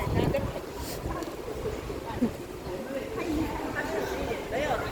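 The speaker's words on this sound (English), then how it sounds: "It is getting very windy." Strong wind gusting outdoors at a business park, a steady broadband roar with buffeting on the microphone throughout, with voices talking underneath.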